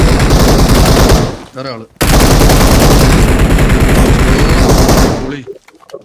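Automatic gunfire blasts loud and continuous in a battle royale game on the Livik map, breaks off briefly, then resumes as a long sustained burst before fading. A player's voice speaks briefly during the gap.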